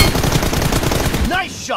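Rapid automatic gunfire in a 2 vs 2 mobile shooter team deathmatch: dense, continuous bursts of close shots fill most of the clip, and a short voice is heard at the very end.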